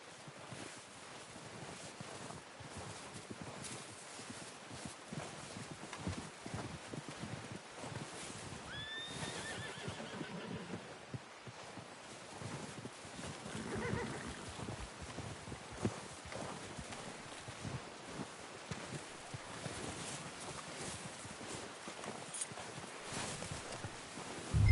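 Hooves clip-clop steadily over wind and outdoor noise in the video game Red Dead Redemption 2, with a horse's whinny rising clearly around the middle.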